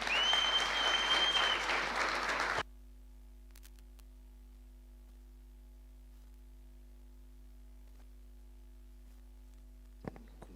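A workshop audience applauds with dense, close clapping for about two and a half seconds, then it stops abruptly and only a faint steady hum remains, with one soft click near the end.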